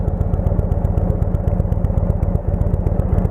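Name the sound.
vehicle engine running in first gear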